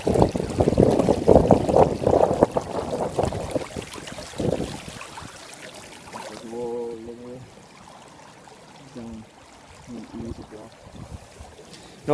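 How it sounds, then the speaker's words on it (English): A small, clear overflow stream near Derwent Reservoir trickles and rushes close by, loudest at first, then fading to a softer wash with a few brief tonal sounds over it. "that noise of the water trickling"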